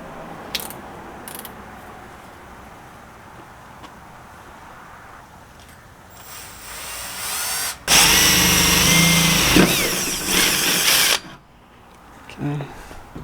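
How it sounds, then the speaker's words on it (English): Power drill boring holes during a CA Tuned off-road rear tire carrier install, with a loud, close whine lasting about three seconds after quieter handling noises and brief talk. "what we're gonna do is we're gonna end up drilling both of these holes out"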